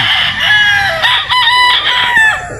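A bulik gamecock rooster crows loudly and close by in one long, wavering call with no other sounds around it.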